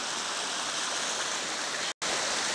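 Water from a waterfall rushes down a rock wall from its source at the top, a loud, steady broadband roar that runs without pause except for one brief cut.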